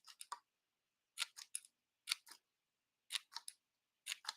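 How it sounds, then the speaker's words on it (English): Scissors snip through paper in quick clusters of two or three sharp, close cuts, repeated about once a second with silence between, no talk. "just keep moving your scissors a little bit down and just keep going"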